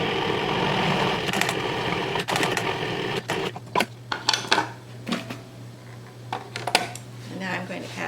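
Electric mixer whirring steadily as it creams powdered sugar and butter for a blackberry cloud pie, a constant motor hum in the first few seconds that then breaks into intermittent bursts, with kitchen clatter and a voice talking over it.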